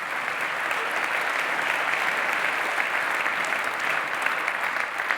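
An audience at the SVC Geneva 2025 award ceremony breaks into loud, dense applause, a steady wash of clapping that holds evenly throughout without any speech.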